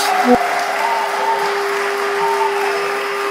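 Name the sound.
applause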